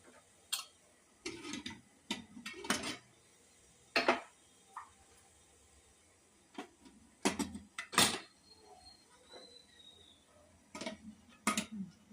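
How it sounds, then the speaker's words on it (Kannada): Steamed dumplings go into a heated idli pot with irregular light metallic clicks and taps, scattered singly and in short clusters over quiet background. "ಈಗ ಇಡ್ಲಿ ಪಾತ್ರೆಯಲ್ಲಿ ನೀರು ಕಾದಿದೆ ಈಗ ಹಬೆ ಒಡೆಗೆ ಇಡೋಣ"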